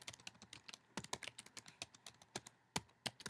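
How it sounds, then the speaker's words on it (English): Rapid, uneven keystrokes on a computer keyboard while entering text into a word processor, crisp clicks in short bursts and close by, with no talking. "instead of saying following, we're typing it like that."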